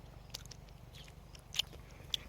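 Nanking cherries are chewed up close in a backyard, giving soft, wet biting and mastication with a couple of sharper crunchy bites, all quiet and without speech.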